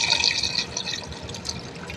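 Water pours into a pot over yalanji, stuffed vine leaves with lemon juice, garlic and oil. The pour splashes and trickles steadily, loudest at the start and easing off, with no talk.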